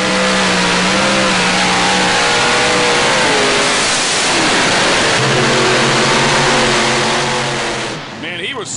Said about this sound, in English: You can hear the RPMs change drastically as it pulled it down.